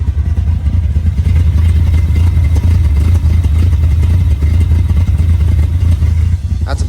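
Warmed-up 1987 vehicle engine with a carburetor, running at a steady, loud, rough rumble with a faint clattering texture, heard alone and unbroken for the whole stretch.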